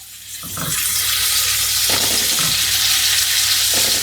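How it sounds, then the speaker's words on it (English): Loud, steady sizzling and hissing of hamburger patties frying in a hot pan, with a few soft scraping sounds as they are pressed with a spatula and moved. "And we got a lot more hiss and sizzle out of it."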